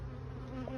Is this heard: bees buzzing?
yes